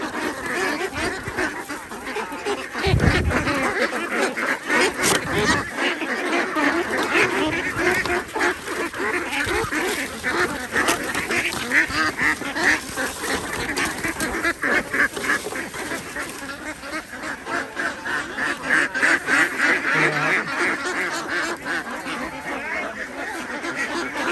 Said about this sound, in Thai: วันนี้เรามาส่งเป็ดที่มะเกลือใหม่นะครับ